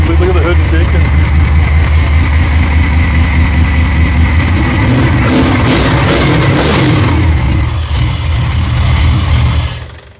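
A big-block 572 engine idles loud and close with a deep, lumpy, choppy rumble, rising briefly midway, and the hood shaking, before cutting off at the end; voices murmur faintly beneath.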